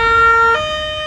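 Ambulance siren in traffic on Bonaire, a loud, close two-tone wail stepping from a higher to a lower pitch partway through.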